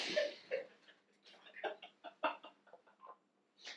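A voice imitates a dinosaur, but the call comes out as a string of short, cat-like mewing and chirping squeaks, fairly quiet and close.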